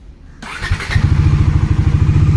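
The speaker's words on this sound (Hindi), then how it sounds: "अब बाइक स्टार्ट करता हूँ" A stock motorcycle, being prepared for a Ladakh ride, fires up after a short quiet moment and settles straight into a loud, close, steady idle with a rapid rhythmic thump.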